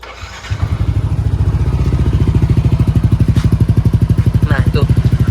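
A Yamaha NMAX scooter engine starts up close by and settles into a loud, rapid, evenly pulsing putter that runs continuously to the end.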